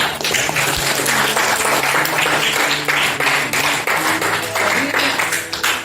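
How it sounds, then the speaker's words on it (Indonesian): Classroom applause for a student after a short-story lesson, steady loud clapping from a group throughout, with a low hum underneath. "tepuk tangan untuk Bila"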